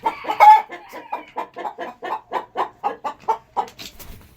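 Hens clucking in a poultry setting during egg incubation, a steady run of about fourteen short, evenly paced clucks close to the listener, with a louder call near the start and no talking.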